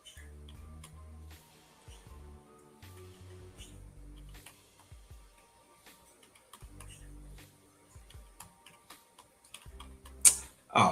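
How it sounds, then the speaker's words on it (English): Typing on a computer keyboard, soft irregular clicking in short bursts with pauses, quiet and close, ending with a couple of sharper louder clacks. "So look at the keyboard."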